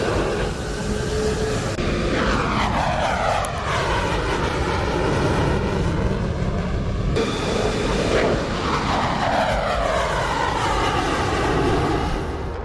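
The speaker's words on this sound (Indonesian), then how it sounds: "Inilah F-15EX, jet tempur terbaru yang disebut-sebut akhirnya mendarat di Indonesia." An F-15EX fighter jet roars past in two loud, sweeping passes, its engine noise rising and falling in a steady, powerful rush with no talking.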